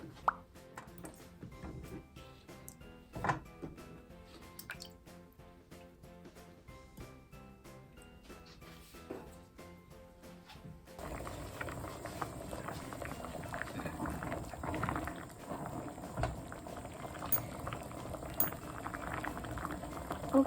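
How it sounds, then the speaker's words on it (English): Water with tofu in a pot simmers with soft plops, then rises to a fuller, steady rolling boil full of dense bubbling. "Put water and tofu in the pot and boil 2 or 3 minutes"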